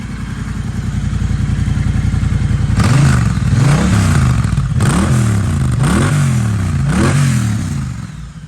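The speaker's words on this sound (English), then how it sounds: "this is what it sounds like with the Decat" A Triumph Bonneville Speedmaster fitted with a de-cat exhaust idles with a rapid, close thump, then revs in four loud, throaty surges before settling back.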